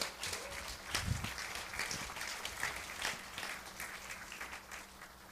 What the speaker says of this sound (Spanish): Dale un aplauso al Señor por esto.